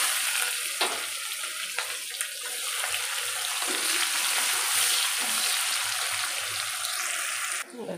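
Onion sizzles steadily in hot oil with prawns and spices (bay leaf, dried chilli and five-spice seeds), a dense, bright crackle that runs unbroken at close range, with occasional clinks and stirring and no speech.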